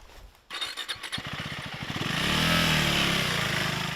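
A KTM 390 motorcycle engine catches with a few sputtering pulses, then settles into a steady, rising drone as the bike rides off, close and fairly loud.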